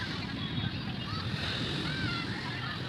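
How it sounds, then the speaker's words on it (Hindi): Sea waves wash in at Manora beach in Karachi, a steady broadband rush of surf mixed with wind buffeting the microphone, continuous and fairly loud with no clear breaks. "पानी की लहरें चेक करो।"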